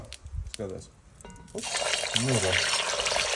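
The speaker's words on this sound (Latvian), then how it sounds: "Tad eļļa ir uzkarsusi, tad gaļu liekam iekšā." Meat goes into hot oil in a kazan for plov, setting off a sudden loud sizzle that keeps hissing steadily. A person speaks briefly before it starts.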